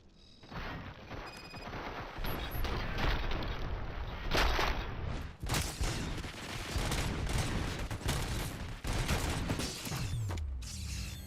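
Dense gunfire from a RoboCop: Rogue City combat sequence: a sustained, loud barrage of shots and mechanical clatter that continues almost without a break, with a brief dip midway.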